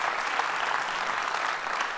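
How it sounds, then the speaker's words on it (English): Audience applause at a conference, a dense, steady wash of many hands clapping that holds at an even level throughout. "Give him a round of applause."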